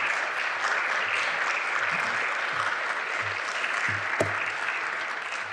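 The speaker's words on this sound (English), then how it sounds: "So let's give him a round of applause." Steady, dense applause from an audience welcoming a speaker before a talk on beauty and worship, sustained and fairly even throughout with no voices over it.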